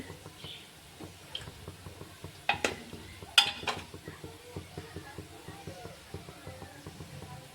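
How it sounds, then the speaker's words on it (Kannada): Fried gulab jamun being stirred in sugar syrup in a pot: soft wet sloshing and light clinks of utensil on metal, with a couple of sharper knocks, under a voice talking. "ನೋಡಿ ಪಾಕದಲ್ಲಿ ಜಾಮೂನ್ ಹಾಕೊಂಡಿದ್ದೇನೆ ಒಂದ್ಸಲ ಕೈ ಆಡಿಸ್ಬಿಡೋಣ"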